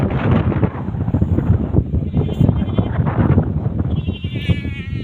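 A goat bleats repeatedly outdoors among farm livestock, wavering calls close to the microphone with wind buffeting throughout and voices mixed in.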